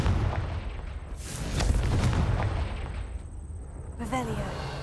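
A Confringo blasting curse in Hogwarts Legacy erupts in a loud, booming blast with rumbling debris that fades, followed by a short magical chime.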